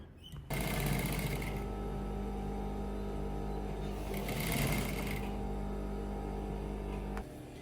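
A sewing machine stitching the smaller inner part of a dress flare hums steadily and close for several seconds, with a brief surge midway before stopping abruptly.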